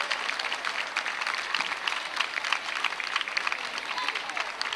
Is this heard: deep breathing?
no